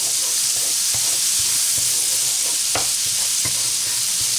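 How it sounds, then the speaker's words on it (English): Garlic and rosemary sauce simmering in a pan, a constant loud hiss and bubbling sizzle with a few sharp pops and crackles throughout. "we're just going to let this simmer for a few minutes"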